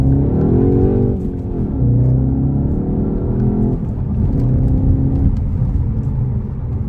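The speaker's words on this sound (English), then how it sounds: "You can hear the engine noise." A Skoda Octavia vRS engine in sport mode drones steadily from inside the cabin, a deep, loud rumble with the pitch shifting as revs rise and fall between gears.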